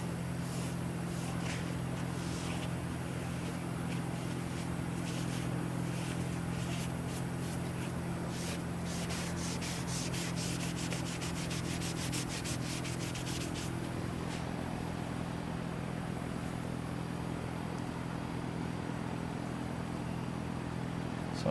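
A white eraser pad scrubbing the undercarriage of a BMW E36 M3, a steady close rubbing rasp over a constant low hum, with a stretch of quicker scraping strokes partway through.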